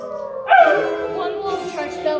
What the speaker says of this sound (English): she heard the low and menacing growling of wolves